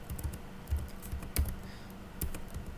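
Keys clack on a computer keyboard as a ping command is typed for a router network test, a short irregular burst of soft, close taps with no talking.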